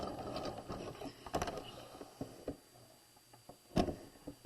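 A home sewing machine stitches down the side seam of a bodice on a raglan-sleeve garment, giving close, irregular mechanical ticks and clacks with brief louder bursts and no talking.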